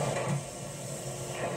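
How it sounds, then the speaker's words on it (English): A vacuum cleaner runs in the background of an open office, picked up through a Logitech Zone Vibe Wireless headset mic as a steady, faint broadband hiss and hum with no speech over it. "there's a vacuum cleaner running in the background"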